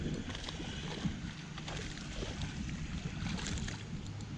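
Strong wind buffets the microphone on a bass fishing boat on open water, a constant loud rumbling roar with faint lapping and no clear voices.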